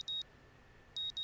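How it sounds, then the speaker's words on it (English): Alarm clock in the Katawa Shoujo visual novel game, two short bursts of high electronic beeping separated by a brief pause, faint and clean with no voices. "But this still starts with the alarm clock."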